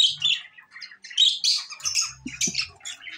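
Pet lovebirds, parakeets and budgies in a cage give sharp, close chirps and squawks in quick irregular bursts, with a few low soft sounds underneath and no talking.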